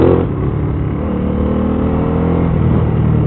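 An Aprilia Caponord 1200 motorcycle engine runs loud and steady at speed, a sustained low throbbing drone with wind rush, holding level throughout without a break.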